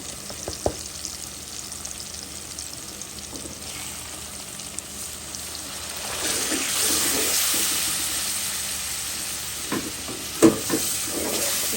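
Ginger-garlic paste with turmeric, chili, coriander and cumin sautéing in a pan for a potato-eggplant hilsa curry, a continuous sizzle that swells louder midway, with scraping stirs and a clink near the end.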